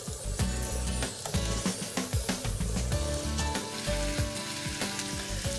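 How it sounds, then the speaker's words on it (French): Potatoes fry in olive oil in a pan, a close, loud, continuous sizzle and crackle with irregular pops throughout. "Je vais rajouter un peu d'huile d'olive pour être sûr que ça ne va pas coller. Voilà. Et puis on va rajouter les pommes de terre."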